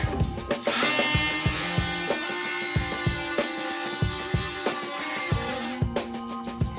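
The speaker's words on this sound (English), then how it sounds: "So you have to use a hacksaw or a multi-tool like this." An oscillating multi-tool cuts through a brittle part in a maintenance shop, giving a steady high buzzing rasp broken by repeated short clicks and knocks as the blade catches, close and fairly loud throughout.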